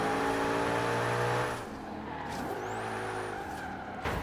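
A race car in Forza Horizon 3 drives at high engine revs, then the engine note drops sharply under hard braking before it picks up again, with faint tire squeal.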